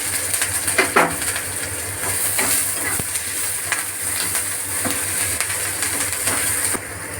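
Garlic, ginger and onion fry in mustard oil in a pan, a loud, continuous sizzle with scraping stirs and occasional clinks of utensil against the pan, close up and with no talk.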